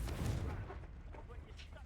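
A Confringo blasting spell detonates in the Hogwarts Legacy video game, giving a low, rumbling boom that rolls out briefly and fades. The burst sounds faint and distant overall.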